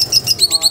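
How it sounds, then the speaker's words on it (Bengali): A lovebird at a bird farm in Bangladesh gives a quick series of four or five sharp, high chirps in a steady rhythm, close and loud, with no talking. "আর পাখিটা আর কত সুন্দর ডাকে।"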